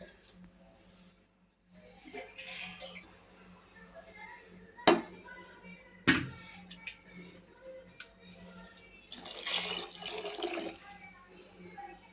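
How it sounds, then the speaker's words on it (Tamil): Water splashes into a pot of attukal (goat trotter) soup in a home kitchen. Quiet clinks and a couple of sharp knocks come first, then a short, louder rush of pouring water near the end. "இதில் தண்ணி ஆட் பண்ணிக்கோங்க."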